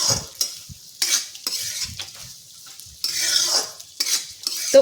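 A spoon scrapes and stirs vegetables into sizzling tempering for upma, in short bursts with pauses between, close by.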